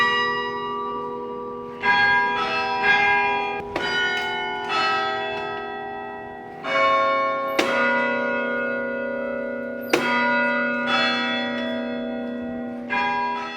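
Antique carillon church bells, struck by hand from a large wooden keyboard at St. Clement's in Iloilo, ring in a slow, irregular sequence of clear strikes whose long metallic tones overlap and fade, with no voices present.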